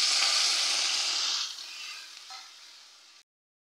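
Boiled matar dal poured into a pan of fried bitter gourd gives a loud, bright sizzle that fades steadily over about three seconds before cutting off.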